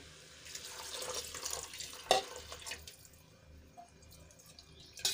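Water is poured from a bowl into a pressure cooker for aloo matar pulao, making a soft splashing trickle. A sharp metallic clink comes midway and another at the end.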